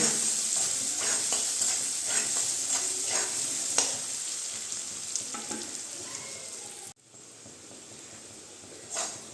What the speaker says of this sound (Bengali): এখন আমি মূলা আর আলুটাকে ভালো করে ভেজে নিব